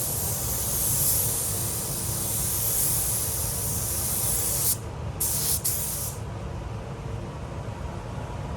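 A spray gun hisses steadily as it lays paint onto the repaired bodywork of a Honda Civic FN2 Type R in a paint shop, with brief pauses in the spray near the middle before it resumes.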